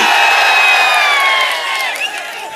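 A political rally crowd in Tiruvarur cheers loudly and continuously, a dense roar of voices laced with whistles and whoops that eases slightly toward the end.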